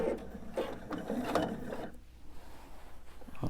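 A sewing machine slowly stitches through a quilt to a marked line and makes a couple of back stitches, giving a steady close mechanical whirring for about two seconds before it tapers off into quiet.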